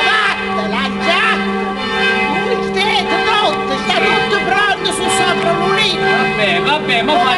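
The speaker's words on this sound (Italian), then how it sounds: "Ecco sono le campane, la sposa sta per rescendere" Church bells ringing for a wedding, loud and continuous, with overlapping peals and a dense clang, while people talk over them nearby.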